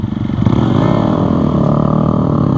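A Honda MSX 125 (Grom) motorcycle engine drones loud and steady while being ridden, with a constant mid-pitched throb and no pauses.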